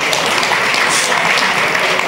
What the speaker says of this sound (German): Manchmal gibt das Beifall.